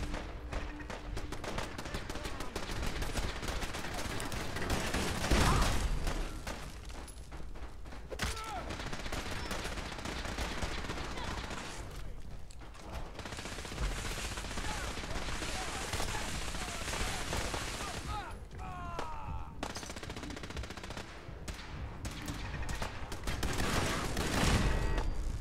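Turrets in Fallout 4 keep up sustained gunfire through the Battle of Bunker Hill, a dense, continuous clatter of shots and explosions that rises and falls, with a voice talking over it now and then.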